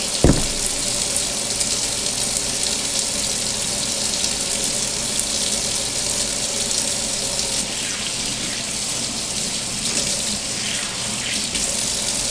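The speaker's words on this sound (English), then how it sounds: "Just gonna rinse it out, water," Steady running tap water splashes into a sink while rinsing a makeup brush, a continuous close rushing stream with no pauses.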